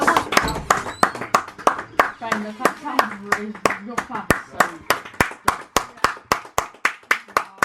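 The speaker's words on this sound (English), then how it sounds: "it's the day to clap. Let's do that for the NHS." Steady, evenly spaced hand claps for the NHS on a Thursday evening, one crisp clap after another for the whole stretch, with voices murmuring underneath in the middle.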